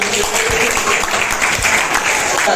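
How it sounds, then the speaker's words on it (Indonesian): A classroom of students applauds together during an anti-bullying lesson, a dense, steady wash of clapping that stays loud and even throughout with no break. "Oke, tepuk tangan untuk"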